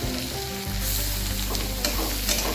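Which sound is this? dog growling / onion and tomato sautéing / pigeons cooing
onion and tomato sautéing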